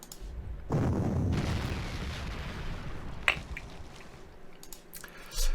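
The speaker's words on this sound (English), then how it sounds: "I'm going to suppress this anti-tank with my own artillery" Artillery fire in the wartime strategy game Panzer Corps 2 sounds as a loud, rumbling blast that swells suddenly and decays over a few seconds, followed by a sharp crack and a later low thump, with no talking.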